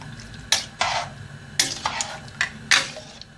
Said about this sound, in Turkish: Adet karanfil ve ayvanın çekirdeğini ekliyorum. Şöyle bir kere karıştırıyorum.